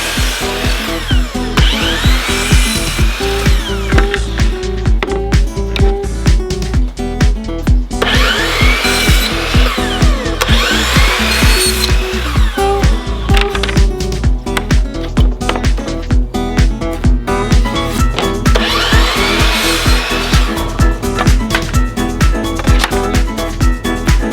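A miter saw repeatedly cuts shiplap boards, with loud rhythmic buzzing whines separated by steady tapping and clatter, close and sustained throughout, with no voices.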